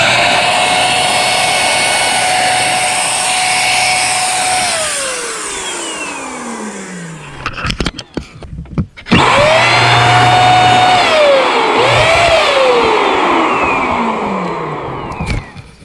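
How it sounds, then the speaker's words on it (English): Paint sprayer blasting air to clear dust off a Sea-Doo jet ski hull during a bottom resurfacing job, a loud steady whooshing whine that winds down, cuts out, then starts again. "how this paint sprayer helps clear it out real nice and easy for you"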